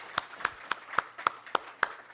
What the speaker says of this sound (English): A big round of applause for BC Securities